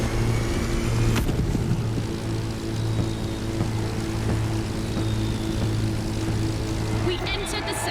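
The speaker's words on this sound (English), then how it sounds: "its size makes it the perfect aerobatic aircraft" A propeller-driven aerobatic aircraft droning steadily in The Crew Motorfest racing game, a constant low engine hum with a brief louder swell, mixed under game sounds and other vehicle noise.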